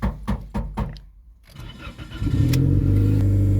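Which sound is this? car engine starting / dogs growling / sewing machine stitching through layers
car engine starting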